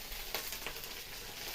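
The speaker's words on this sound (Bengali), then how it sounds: "ঢেঁড়স আলুটা ভাজা বসিয়েছি" Okra and potato fry in a pan with a steady, close sizzle and crackle throughout, no voices present.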